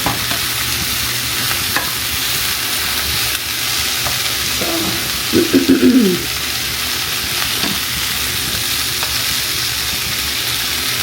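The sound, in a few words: squash sautéing and sizzling in a pan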